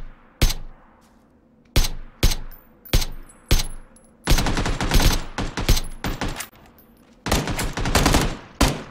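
Gunfire in the battle royale game PUBG (Battlegrounds) on a fog map. Several sharp single shots come first, then rapid automatic bursts, loud and close.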